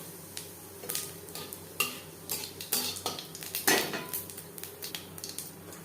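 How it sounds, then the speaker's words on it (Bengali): Whole cumin seeds and broken dried red chillies frying in refined oil in a pan, with sharp clinks of a spoon stirring against the metal over a faint, steady sizzle. "পঁচিশ তিরিশ সেকেন্ড লঙ্কা ভেজে নেওয়ার পর দিয়ে দেবো হাফ চামচ গোটা জিরে"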